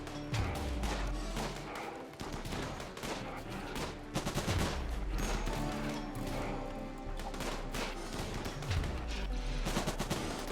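Rapid bursts of gunfire from shooting in a video game, sustained volleys with repeated low booming thumps, loud and continuous throughout.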